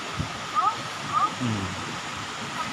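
A waterfall roars with steady rushing water in the background, with faint bird chirps and a brief murmur of voices.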